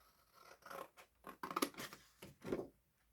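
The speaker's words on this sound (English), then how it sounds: "I hopefully could do that with my long scissors" Faint, close snipping of long scissors cutting, several crisp snips in an uneven rhythm with short pauses between them.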